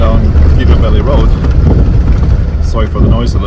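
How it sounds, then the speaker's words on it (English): A vehicle driving off-road down dirt Cathedral Valley Road near Capitol Reef National Park in southern Utah, on an overlanding trip: a loud, steady rumble of tyres and engine with heavy wind buffeting throughout. "And now we're driving down Cathedral Valley Road and heading into Capital Reef National Park later today."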